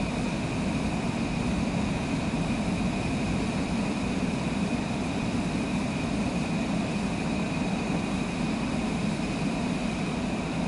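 Steady, close drone of a Cessna propeller airplane engine in Microsoft Flight Simulator 2024, a constant even hum that holds unchanged for the whole stretch with no voices over it.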